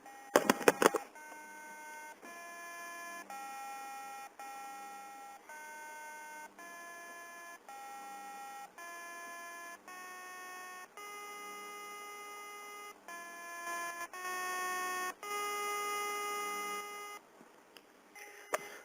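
A TI-84 CE graphing calculator plays a beeping tune, a steady run of pitched electronic tones changing note every second or so for about fifteen seconds, heard alone without talk.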